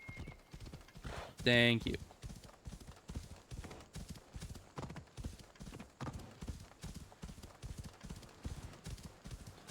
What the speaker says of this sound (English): You're very slow, horsey. Okay, giddy up.